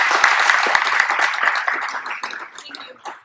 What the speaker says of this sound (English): let's just give the kids one more round of applause